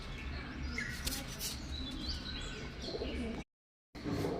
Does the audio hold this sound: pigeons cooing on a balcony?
yes